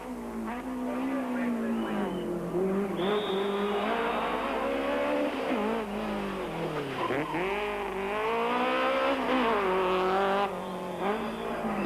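A rally car races through a tight parking-lot stage at the 1993 Volkswagen Algoa Rally, its engine revving hard and rising in pitch while the tires squeal loudly and almost continuously through the bends, heard close.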